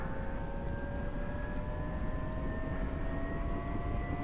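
An OH-6A helicopter spins up during startup in the DCS flight simulator: a steady engine roar with turbine whine tones slowly rising in pitch as the rotor blades turn, continuous and loud throughout.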